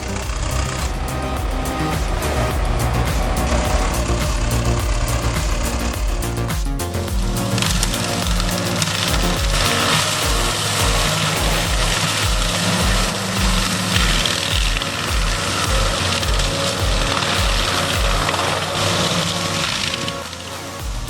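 A Tigercat 630E machine with a 260 HP engine clearing tall brush: a loud, steady diesel roar with crackling and splintering wood throughout, close and continuous with no talk.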